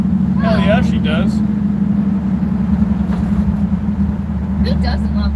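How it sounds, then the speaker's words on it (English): Steady low engine rumble of a car interior while driving, with voices chatting over the continuous drone. "no matter how loud this car is"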